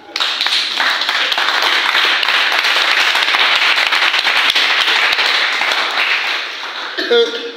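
Church congregation breaking into sustained, dense applause, loud and close, filling the room with steady clapping before it tapers off at the end.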